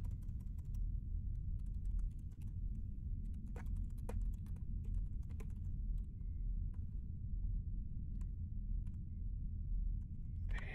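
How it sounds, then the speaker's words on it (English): Computer keyboard keys click in quick irregular bursts, fairly close, over a low steady rumble, during a detective video game. "my typing is so bad"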